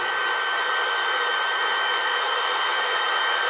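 Hair dryer blowing steadily and loud to dry paint on a pumpkin, a continuous even whoosh with no talk.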